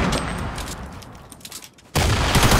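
Gunfire from a double-pump shotgun fight in a battle royale video game, with dense bursts of shots filling the opening two seconds, a brief quieter gap, then another loud burst at the end.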